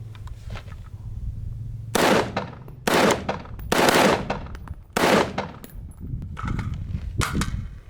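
An ACR rifle fired outdoors: four loud, sharp reports at uneven intervals, then a couple of quieter shots, over a steady low background hum.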